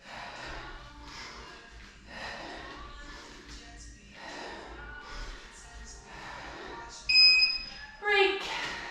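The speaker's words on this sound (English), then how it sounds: "When it beeps, I might call out break or transition." Workout interval timer beeping during a lower-body gym session, with sharp tonal beeps near the end over ongoing background music and breathing.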